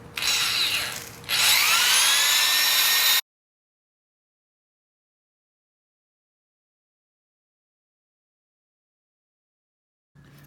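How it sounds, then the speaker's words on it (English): A power drill boring through a snapped bolt on a 1992 Yamaha XJ600 motorcycle, two loud close bursts of whining drilling with a short pause between, then silence. "I guess we might have to drill these out."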